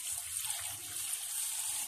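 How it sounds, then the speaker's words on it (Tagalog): Tap water runs steadily into a bowl of bitter gourd being washed, a close, continuous splashing rush lasting about two seconds with no voices. "Lagyan lang natin ng tubig."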